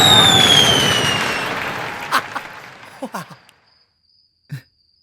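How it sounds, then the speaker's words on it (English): Fireworks bursting outdoors during a show, a loud whooshing blast fading out, followed by several scattered sharp pops and crackles, then a single late bang. "The fireworks started!"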